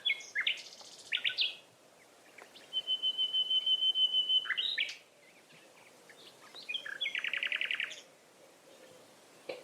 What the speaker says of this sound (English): listening to what a nightingale sounds like